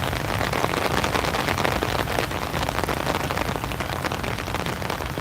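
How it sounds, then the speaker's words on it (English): Steady rain falls trackside beside a railway as a storm moves in, a dense, even hiss of drops hitting the ground and nearby surfaces, without talk. "The rain coming our way."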